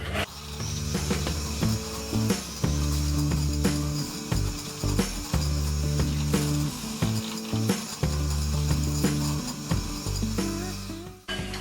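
Electric mixer blending flour and vanilla flavouring into a creamy cake batter, a steady loud motor whir with rhythmic stops and restarts, alone without talk.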